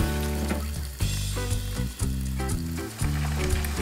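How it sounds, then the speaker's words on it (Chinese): Pork ribs deep-fry in hot oil in a home kitchen, a loud, constant crackling sizzle under which a low tonal hum shifts in steps, with brief dips as the pieces are turned. "避免油温下降太快，中途用筷子翻面，帮助排骨均匀受热。"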